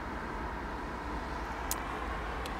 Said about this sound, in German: Autos hört man